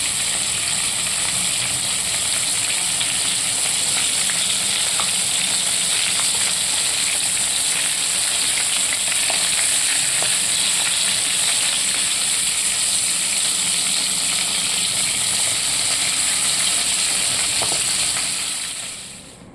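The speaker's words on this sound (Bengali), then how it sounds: "এটা একটু হালকা লাল করে ভেজে আমি প্লেটে তুলে নেব" Golda prawns fry in a pan with a dense, even sizzle and faint crackles that hold steady throughout, then fade at the end.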